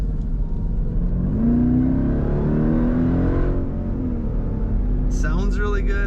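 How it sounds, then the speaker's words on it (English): A 2020 Jeep Grand Cherokee Trackhawk pulls hard from inside the cabin, its engine note climbing steadily under load before easing off, with a voice speaking near the end. "I really want to get one more acceleration in."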